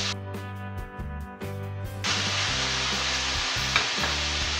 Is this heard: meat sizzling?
yes